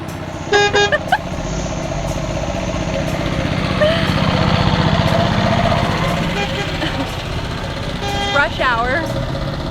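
A tractor engine chugs steadily in Laos rush-hour traffic, with car horns tooting near the start and end and voices talking over the engine throughout.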